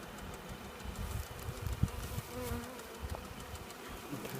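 Honey bees buzz steadily in an opened beehive, a close, continuous drone with brief louder swells, heard alone without talk.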